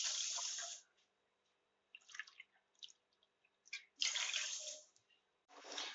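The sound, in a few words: water being poured into a kadai with sugar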